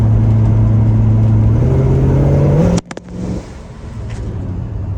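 A 1967 Ford Thunderbird engine revs under load while driving, climbing in pitch before a hard gear shift cuts the sound abruptly, then resumes at a lower, steadier drone; the engine may need lifters and valve adjustment.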